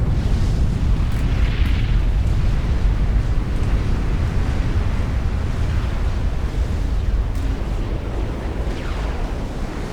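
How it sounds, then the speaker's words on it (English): Billy nuclear missiles exploding in the strategy game Supreme Commander: Forged Alliance, a loud sustained deep rumble of blasts with low booming, continuous and without talk. "More Billy Nukes landing."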